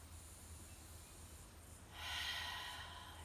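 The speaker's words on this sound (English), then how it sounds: "take 3 more deep breaths" A single slow, deep breath during a calm yin yoga session, a quiet airy inhale followed by a longer, hissing exhale, heard close and alone.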